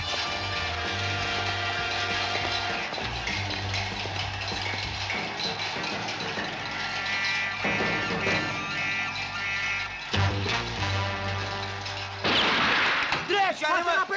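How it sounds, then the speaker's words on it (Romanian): Gunfire in a scene from a 1974 Romanian police film: a sustained barrage of shots and rumbling blasts runs throughout, with a sharper, louder burst near the end and muffled voices beneath. "Parcă se aud de împușcături."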